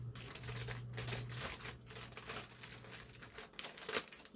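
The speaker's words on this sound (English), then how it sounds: "Even with the scissors, I'm having trouble getting the package open." Crinkling plastic and sharp snipping and crunching sounds, close up and irregular, as packaging is worked open with scissors over a low hum.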